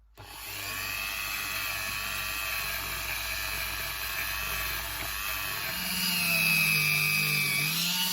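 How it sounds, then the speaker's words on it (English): A small power-driven wire brush removes corrosion from a drysuit inflation cylinder, giving a steady, close, high-pitched whine that shifts slightly in pitch near the end. "with that little wire brush here, you can actually gently remove that corrosion"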